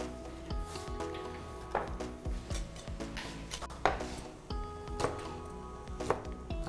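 A knife chops mushrooms on a board in a run of close, sharp, uneven knocks about a second apart, with a faint background hum and no speech.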